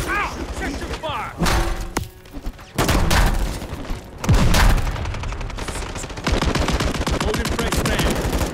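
Rapid bursts of automatic gunfire and heavy impacts in Call of Duty Modern Warfare 3 multiplayer, loud and close, broken by short gaps, with a player talking over the action.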